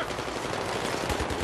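Rapid automatic gunfire in the shooter game Battlefield 3, a dense, loud, continuous rattle of shots with heavy low thumps running through the whole stretch.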